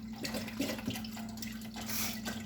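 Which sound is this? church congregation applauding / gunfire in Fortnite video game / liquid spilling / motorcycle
liquid spilling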